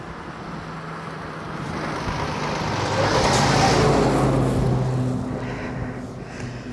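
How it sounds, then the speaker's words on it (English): A truck approaches and passes along a busy Highland road, a steady engine and tyre roar swelling to a peak midway then fading, with no one talking over it. "Sounds like something's coming. Oh, it is a truck."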